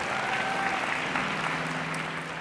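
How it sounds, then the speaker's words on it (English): An audience in Denver gives steady, dense applause at an event, with many hands clapping evenly and continuously at moderate distance. "Let's give him a big Denver round of applause."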